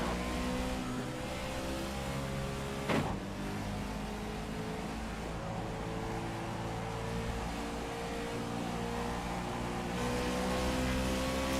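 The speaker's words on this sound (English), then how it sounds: "Got a car approaching. Watch him here." Race car engine in an oval-track racing video game at Charlotte Motor Speedway, a steady loud drone with a sharp burst as another car approaches and passes, the engine tone holding continuously throughout.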